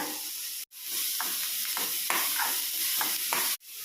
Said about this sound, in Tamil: அதுக்கப்புறம் டொமேட்டோவும் கேப்சிகமும் ஆட் பண்ணிக்கிறேன்.